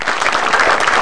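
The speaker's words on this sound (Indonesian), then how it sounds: "Boleh minta tepuk tangannya lagi?" Audience applause at an Indonesian stand-up comedy show in Bandung, a dense, steady wash of many hands clapping close and loud throughout, with no talk over it.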